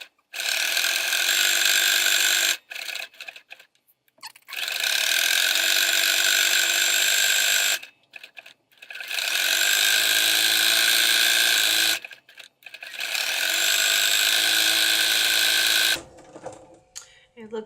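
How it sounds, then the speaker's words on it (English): Sewing machine putting heavy stitches through textile pieces, running in four long steady bursts separated by short pauses with clicks and handling noises between runs. "we're just going to let this machine do its thing. And what's nice about this is I'm putting very heavy stitches in"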